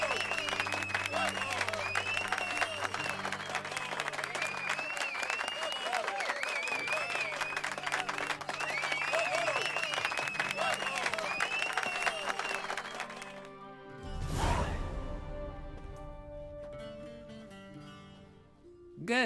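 An audience applauds a theatre play in The Witcher 3, with sustained crowd clapping and cheering under game dialogue and music, then a sudden whoosh and quieter moments afterward.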